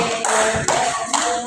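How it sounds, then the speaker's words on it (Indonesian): Group applause at the close of a group counseling practice session, a short burst of hand clapping in a few uneven bursts, close and fairly loud, with no talking. "Tepuk tangan semua untuk kalian masing-masing."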